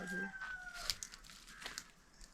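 A rooster crows faintly at a distance in a rural Konkan village yard, a short call standing against quiet background.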